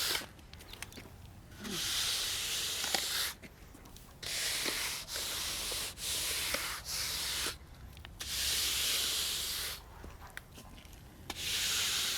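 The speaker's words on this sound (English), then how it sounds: "Use the derby to drag the cement around with upward, sideways, and diagonal motions to achieve as straight a wall as possible." Stucco cement dragged across a concrete block wall with a derby, giving repeated long scraping rubs in bursts of a second or two, separated by short pauses, fairly close and steady.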